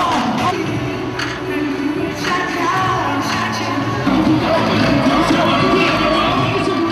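A crowd of tens of thousands at a World Cup celebration concert cheers and shouts continuously, a loud, dense roar with children's shrill voices rising above it.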